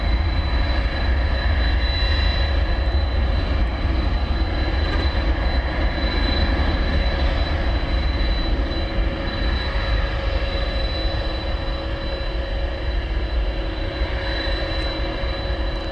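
A Spirit Airlines jet takes off from DFW Airport, its engines giving a steady, broad roar that stays loud and constant throughout with no voices.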